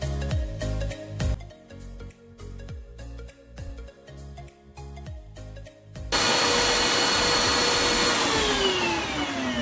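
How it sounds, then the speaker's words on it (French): Electric hand mixer beating eggs and sugar until pale for a gluten-free rolled sponge cake, a loud steady motor whir with bowl clatter, rising to a constant high-speed drone partway through. "on vient les faire blanchir avec notre batteur. Je ferme et je les fais blanchir"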